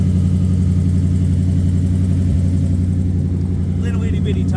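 A V8 engine with a Holley carburetor idles in a 1965 Triumph Spitfire, a deep, throaty rumble from dual exhaust, steady and close, with a faint voice coming in near the end.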